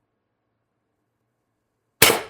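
A CO2 airgun firing a 12.7 mm ball bearing, a single sharp loud crack after two seconds of silence, with a short decaying tail.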